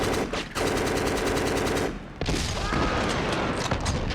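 Sustained automatic gunfire from the PS2 first-person shooter Black, loud and dense bursts of rapid shots with a brief pause partway through, heard alone without talk.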